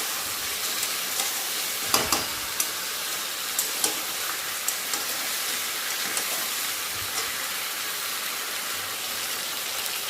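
Spice paste fries in oil in a pan with a continuous close sizzle, punctuated by sharp regular knocks and scrapes of a spatula stirring it.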